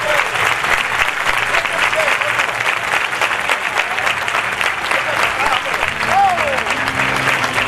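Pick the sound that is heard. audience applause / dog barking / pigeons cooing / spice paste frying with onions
audience applause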